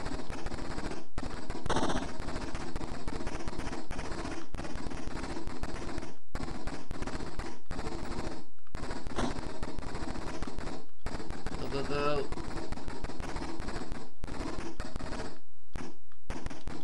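Rapid 8-bit gunfire from the Amstrad CPC464 war game Operation Hanoi, loud, continuous bursts of crackling shots with brief pauses between volleys and no music behind them.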